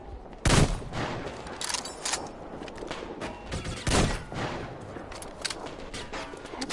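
Enemy gunfire in the Metro Exodus video game rattles in quick bursts and single sharp cracks, with two loud shots standing out among fainter volleys, and no voices.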